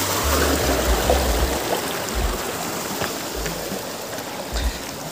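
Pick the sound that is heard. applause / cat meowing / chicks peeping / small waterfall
small waterfall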